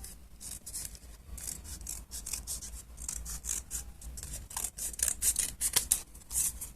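Repeated short scraping cuts as material is trimmed to shape a cylindrical head, a rapid uneven series of crisp rasping strokes up close, growing slightly louder toward the end, with no talking.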